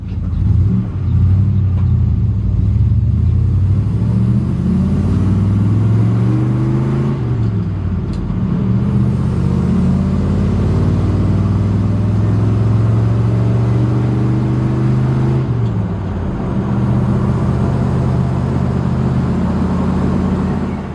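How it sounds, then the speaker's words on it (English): A 1972 Ford F250 Crew Cab truck cruising on the highway, its engine droning loud and steady with low road rumble, pitch rising and falling gently as it shifts and accelerates, no voices. "I'm taking the 1972 Ford F250 Crew cab to the show."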